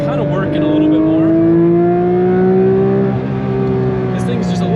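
A new Porsche 992 GT3 RS runs flat out on a road in the Smokies, its engine loud and close with a sustained, steadily rising tone that dips briefly and carries on without pause for the whole stretch.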